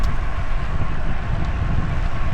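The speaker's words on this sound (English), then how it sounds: "It's windy." Steady wind buffeting past while cycling the West Orange Trail near Winter Garden, a constant low rushing roar close to the microphone with no break.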